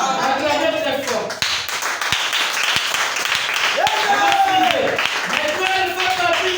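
A church congregation claps and applauds loudly and continuously, with voices and cheering mixed into the dense, sustained clapping.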